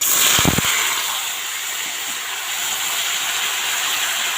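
Vegetables tipped into a hot pan of tempering spices for a home-style sabzi, giving a brief thud and clatter at the start, then a loud, steady hiss of steam and frying that continues to the end.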